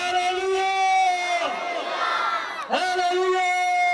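A church congregation at a water baptism service loudly shouts hallelujah together, two surging waves of massed voices with a short dip between.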